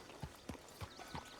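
Horse hooves clip-clop in a video game, four distinct steady footfalls at an unhurried walking pace, fairly close against a low background hum with no talking.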